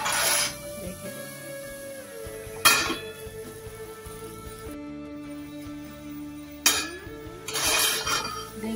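A paneer dish is stirred in a metal cooking pan: scraping and ringing clanks, with a few sharp clinks of the utensil against the rim standing out.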